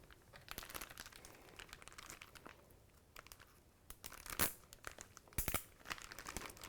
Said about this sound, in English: So I'm just going to twist the top of the bag.